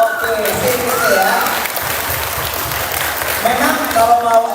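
An audience at a fan meeting in Bali claps steadily throughout, a dense, even applause with a voice talking over it.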